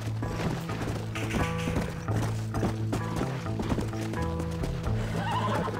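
Horse in the video game Red Dead Redemption, with neighs and whinnies over steady hoofbeats and a game music bed throughout, close and loud, no talk over it.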